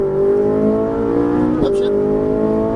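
A Ferrari 458 Italia accelerates through a cone-marked driving course in Las Vegas. Its engine drones in a steady, rising tone, with a brief gear-change blip near the end and a voice talking over it.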